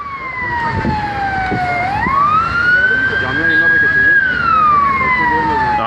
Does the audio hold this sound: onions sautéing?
no